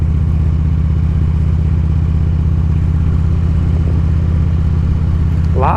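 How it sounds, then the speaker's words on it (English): Motorcycle engines on a road, likely Harley-style bikes, with a loud steady low rumble held close throughout and a brief rising whine near the end. "A lot of bikes out today."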